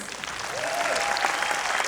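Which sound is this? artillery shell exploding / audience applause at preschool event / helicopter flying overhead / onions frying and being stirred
audience applause at preschool event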